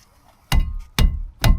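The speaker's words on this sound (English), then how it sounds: "And you're going to give it a good whack." Three sharp metallic whacks from a hammer bar striking a crusty brake rotor on a Hyundai Elantra ring out about half a second apart, each followed by a short rumbling decay.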